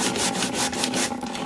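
A Cricut cutting mat being rubbed hard to clean it, a close, loud, continuous scrubbing with rhythmic back-and-forth strokes.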